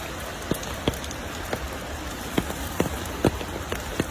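Steady rain hiss with scattered, distinct drops tapping on a surface at irregular intervals, fairly close, with no voices.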